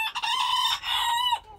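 Close, loud crowing from a rooster kept in a backyard coop cage with hens; one sustained call with a hoarse, harmonic-rich tone that breaks off abruptly.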